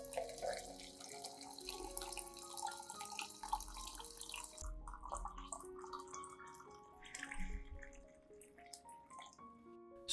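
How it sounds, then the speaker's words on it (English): Hot water runs and splashes steadily, like a stream pouring into a container, about 500 millilitres poured over garlic, with a soft musical backing throughout. "Next, add approximately 500 milliliters of hot water."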